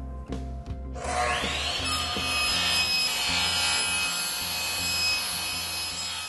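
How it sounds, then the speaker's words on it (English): An electric miter saw whines steadily through ceiling main rails for several seconds after a brief start, loud and close with no talking. "Electric miter box really makes the process go faster, although a handsaw would work."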